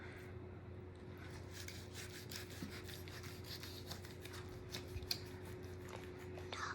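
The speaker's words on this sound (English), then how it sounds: "Cutting it about an inch and a half away from each other." A knife scores porchetta pork skin at close range, making quiet scratchy drags and light taps over a faint steady background hum.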